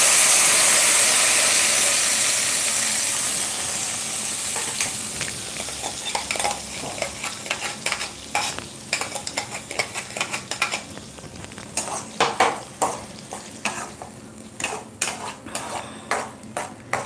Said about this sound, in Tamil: தக்காளி எண்ணெயில் கொஞ்சம் நல்லா வதங்கட்டும்.